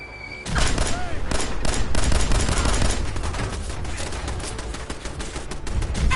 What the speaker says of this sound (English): Just love the sound of the gunshots in the distance.